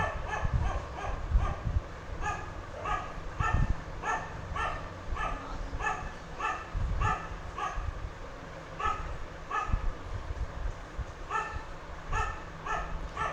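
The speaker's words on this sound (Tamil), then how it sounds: "நாயினா அது கத்த தான் செய்யும், அதை போய் காதில் வாங்க முடியாது" A dog barks repeatedly in a steady series of sharp, fairly close barks with occasional yips, heard alone without talk.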